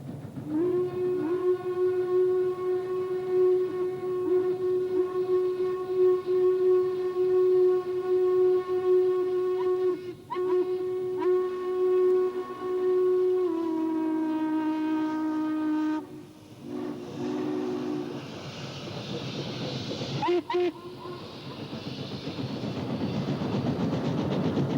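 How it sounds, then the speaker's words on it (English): Class A and J steam locomotives hauling a freight and a passenger special side by side, a long sustained steam whistle dominating, then shifting in pitch and cutting off, over a steady rumble and clatter of moving trains. "The Class A was again put at the head of a freight, while the J on the convention special steamed alongside."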